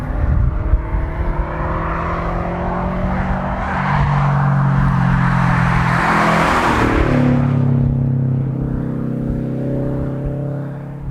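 A 2017 Subaru WRX STI's 2.5-litre flat-four boxer, breathing through an aftermarket Nameless back box, drones with a loud, steady exhaust note that swells as revs climb midway, then settles back to a lower, even burble.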